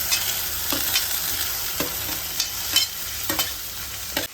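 Okra is stir-fried in a hot pan, a continuous sizzle with repeated scraping strokes of a spatula at an irregular pace, close and with no talk.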